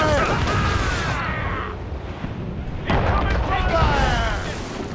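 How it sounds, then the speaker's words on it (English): Mortar fire in Assassin's Creed Rogue, a naval battle setting: dense, loud rumbling booms and crashes fill the clip, with a heavy burst near the start and another near three seconds, layered with shouting voices. "Mortars incoming"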